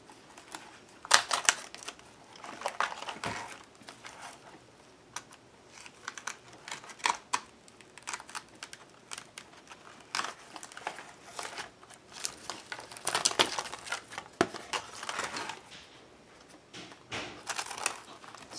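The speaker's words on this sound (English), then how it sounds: "So I am just going to cut everybody out of the book, which is pretty easily done." Pages being cut out of a book while reworking an altered book, heard as a close run of irregular snips, paper crinkles and sharp ticks scattered throughout.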